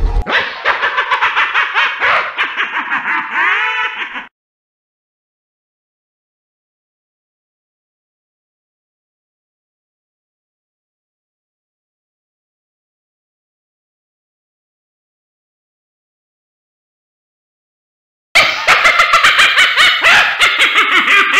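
A dog gives a burst of yips and barks up close. After that comes a long stretch of total silence, then another loud run of yipping barks near the end.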